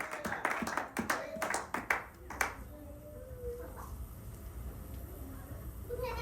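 A church congregation claps during a Sunday worship service in Sherbrooke, Canada: a run of sharp, rhythmic claps over the first half that fades into a murmuring room, with a voice speaking over it.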